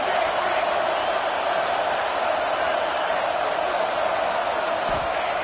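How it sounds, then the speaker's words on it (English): Roaring football stadium crowd noise as fans cheer on the Oregon defense before a red zone stop, a dense, sustained wall of sound with no breaks or individual voices standing out. "And here comes the noise. This crowd is trying to inspire this defense to make a big red zone stop."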